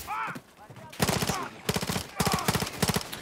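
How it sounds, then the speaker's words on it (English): Automatic gunfire from the Modern Warfare 3 campaign, in loud rapid bursts with short pauses between them, after some quieter game sounds at the start. "I'm shooting at a fucking bulldozer"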